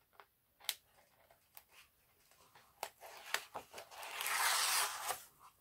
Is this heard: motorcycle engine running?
no